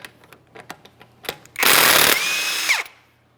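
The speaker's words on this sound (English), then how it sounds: "Once it does lock in, we can remove that locking lug nut." A power tool, likely an impact gun, spins off a locking lug nut from a 2015–2019 Subaru Outback wheel: light clicks and taps first, then a loud, close whirring burst of about a second and a half that winds down.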